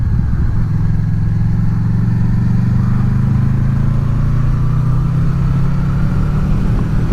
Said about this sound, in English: It's a nice night for a ride out on the motorbike.